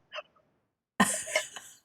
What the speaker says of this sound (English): Now I'm gonna cough.